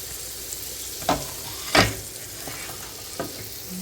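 Half a stick of butter melts and sizzles in a pan, giving a continuous frying hiss broken by a few sharp scraping clacks of a utensil against the pan, close and clear with no voices.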